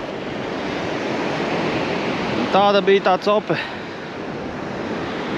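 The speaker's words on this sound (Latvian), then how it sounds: "Sākās baigais vējš, vētra." Strong wind and storm surf roar steadily on a seashore during shore fishing, a loud, continuous broadband rush that lasts throughout, with someone speaking briefly in the middle.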